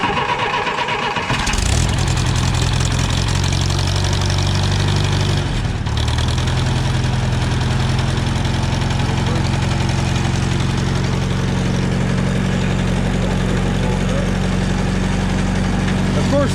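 A 1958 Allis Chalmers D14 tractor engine cranks, catches and settles into a loud, steady, rumbling idle that runs on close and continuous.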